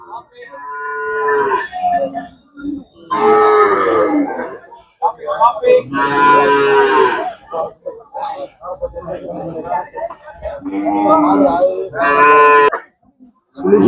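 Kangayam cattle at the Anthiyur temple car festival cattle fair moo loudly and close by, several long, drawn-out calls repeating with short pauses between them.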